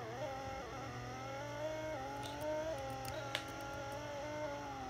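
A car drifting in the Roblox game Vehicle Simulator, its engine whine rising and falling in pitch with revs, with a few brief tire squeals mid-way, steady and moderately loud without talk.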